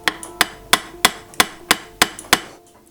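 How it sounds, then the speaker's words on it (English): A hammer taps a brass bushing into a clock plate backed by wooden blocks, making eight crisp, evenly spaced metallic taps that each ring briefly, close and clear with no talking. "Take the brass and just tap that in."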